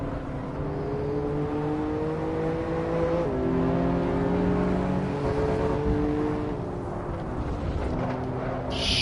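Car engine and exhaust in the racing game Assetto Corsa drone steadily, with engine pitch climbing and dropping through gear changes as the car laps the track, loud and continuous without talk.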